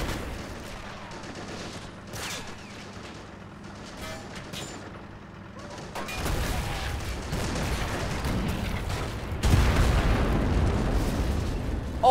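In the Normandy '44 game, an 88mm gun shell explodes with a sudden heavy boom, followed by rumbling blast noise and a second loud impact later amid ongoing battle sounds.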